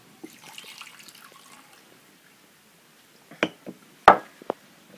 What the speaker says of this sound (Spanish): Ahora aquí le agregamos el vino